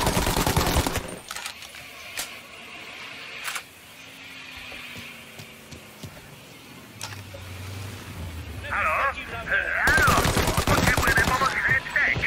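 Gunfire from the video game Mafia Definitive Edition, with bursts of loud shots at the start and again near the end over game engine and ambient sounds.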